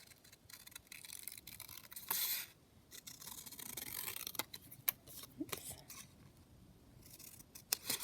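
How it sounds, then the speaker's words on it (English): Scissors snip through a paper banner during a papercraft kit project, giving a run of soft, quiet cuts with a few sharper clicks near the middle and toward the end. "just cut out the banner"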